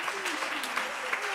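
Audience applause at a Women's Day leadership and transformation seminar, a steady wash of clapping across the whole moment with a voice speaking over it.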